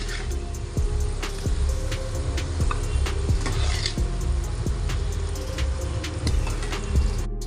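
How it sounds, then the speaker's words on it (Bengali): Potato pieces frying in oil in a pan for a vegetarian soya chunk dish, a steady close sizzle with scattered sharp crackles and occasional stirring clinks throughout, with no talking. "আলুগুলো আমার ভাজা হয়ে গেছে,"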